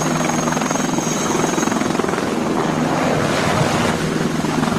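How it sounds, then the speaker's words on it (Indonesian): A combat helicopter, apparently a toy or game model, gives a steady whirring rotor drone with a constant tonal hum throughout, loud and close with no talk over it. "Kalau yang ini helikopter tempur."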